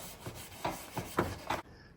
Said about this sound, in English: Now we're following up with a 220 grit lightly and with the grain.